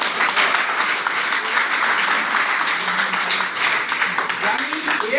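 Steady, dense applause from a crowd, continuous throughout with an even wash of clapping and little variation in level.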